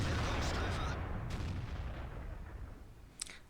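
A tank cannon shot in the World of Tanks game booms loud and close, decaying into a long rumbling tail, with a sharp crack near the end.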